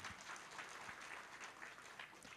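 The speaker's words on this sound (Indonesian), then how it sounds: "Tepuk tangan yang paling meriah buat Tuhan" A church congregation applauds during a sermon, a dense, steady patter of clapping from many hands that sounds moderately distant and fairly faint, without speech on top.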